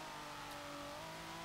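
In Forza Motorsport 7, the engine of a 2018 Kia Stinger GT revs with a steady, droning tone that climbs slightly in pitch, heard alone and fairly quiet.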